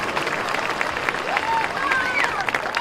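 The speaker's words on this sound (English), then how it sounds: "Let's have a nice round of applause for Barb." Crowd applause ripples through a high-school football stadium crowd, steady broadband clapping and cheering that stays moderately loud throughout, with a few whistle-like tones rising over it and no clear voice on top.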